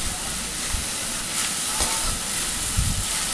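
Coriander sautéing in a hot pan, a continuous close hiss and sizzle with a few soft knocks of stirring, no voices over it.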